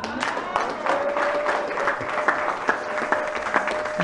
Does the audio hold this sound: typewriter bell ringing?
no